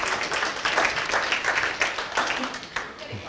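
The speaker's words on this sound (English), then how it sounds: "Let's give these people a round of applause." A short burst of crowd applause, a dense patter of many hands clapping that swells briefly and then begins to thin out.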